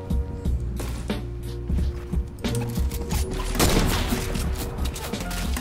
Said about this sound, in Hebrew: יש פה קרב ענק. מישהו יורה מהצד.